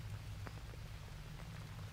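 Rain drips through a hole in a cave ceiling in the video game Green Hell, a faint soft patter of drops over a low steady background hum.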